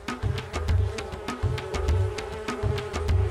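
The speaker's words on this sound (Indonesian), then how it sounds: "Pekerjaan lebah betina ini hanya satu, yaitu mengumpulkan serbuk sari dan nektar dari berbagai bunga yang mereka temui." Honey bees buzz while gathering pollen and nectar from flowers. A close, steady insect hum runs throughout, with soft pulsing low tones and light repeated ticks, and no voices.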